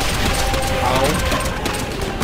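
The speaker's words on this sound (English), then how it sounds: "Too much fire, too much gunfire." Rapid gunfire from Call of Duty: World at War on PC, dense bursts of shots crackling across the clip while a player voice cries out.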